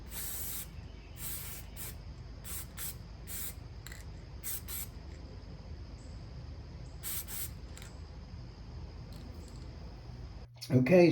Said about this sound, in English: I'm gonna go ahead and spray some clear varnish